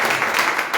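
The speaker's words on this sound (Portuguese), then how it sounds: "Você pode aplaudir o Senhor" A congregation applauds during a church worship service, a brief steady wash of clapping with no break.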